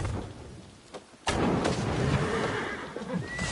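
A horse in the video game Assassin's Creed Valhalla, set during the Siege of Paris, neighs loudly amid a dense wash of rumbling battle noise and crowd din after a sudden onset, close and full.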